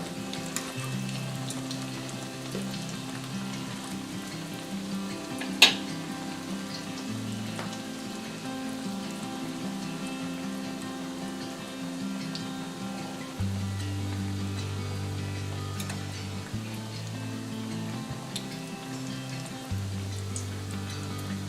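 Eggplant slices fry in oil in a pan for a long stretch, giving a steady, rain-like sizzle with a low background hum and one sharp clink partway through.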